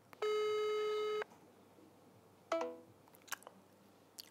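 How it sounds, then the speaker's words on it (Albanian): A telephone call goes unanswered: one long electronic ring tone sounds alone for about a second, followed by shorter beeping tones and faint clicks against quiet background hiss. "Kërkush nuk pe hap telefonin."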